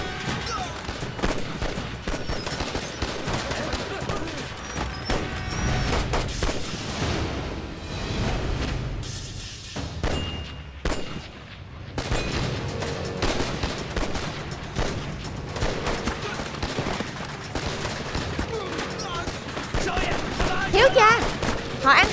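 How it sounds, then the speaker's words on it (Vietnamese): Gunfire in a Vietnamese action film police ambush, a gang leader and his men firing back: dense, continuous bursts of shots with booms and clatter filling the scene, rising and falling but never stopping, with shouted voices mixed in. "Sao lại có tiếng súng vậy"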